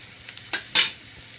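Onions, green chilies and curry leaves frying in a pan, with a soft sizzle and two quick stirring scrapes, the second louder, then a light hiss.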